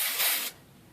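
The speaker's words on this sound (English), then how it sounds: "I just like to take each braid and kind of spray it with just a little bit of the dry shampoo" A single short burst of dry shampoo sprays onto braided hair, a close, steady hiss lasting about half a second before cutting off.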